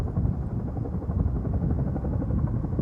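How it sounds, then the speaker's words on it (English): Large firefighting helicopter working the King Fire above Incline Village, Lake Tahoe, a dense, continuous rotor thump and engine rumble, close and fairly loud throughout, with no talking. "That's a beast of a chopper."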